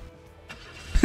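A flying car's engine starts up in Gas Station Simulator, a faint low rumble that swells into a short, louder burst at the very end.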